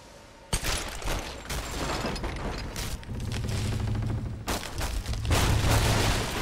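Pistol shots fired by Lara in Tomb Raider: a few sharp, loud reports spaced apart, set against a steady mechanical rumble and ambient game noise.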